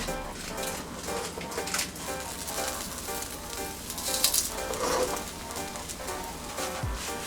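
Crepe batter with low water content fries in a hot pan, giving a steady, close hiss and sizzle that crackles on without a break for several seconds.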